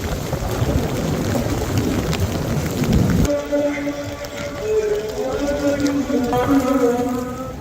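Heavy rain pours steadily at Masjid al-Haram in Makkah, a loud continuous wash with deep rumbling thunder in the first few seconds, then the downpour carries on with tonal ambient sounds layered over it.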